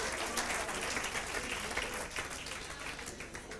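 Studio audience applauding steadily on an Italian television game show, a continuous wash of clapping that holds for several seconds and eases slightly toward the end.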